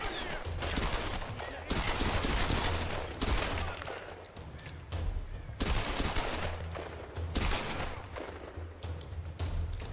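Pistol fire in the Tomb Raider: Definitive Edition video game crackles in loud rapid bursts, shots overlapping in dense clusters with brief gaps between volleys.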